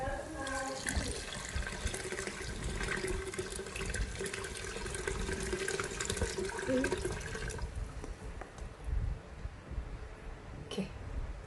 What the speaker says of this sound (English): I'm going to use a sieve to sieve out the bones from the soup